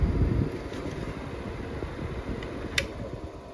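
Bauer 20V battery-powered fan running on its second speed, a steady whooshing airflow hum with a soft mechanical whir, close and continuous, with one brief click near the end.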